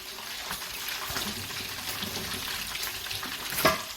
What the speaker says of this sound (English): I have left them to fry dry, like really dry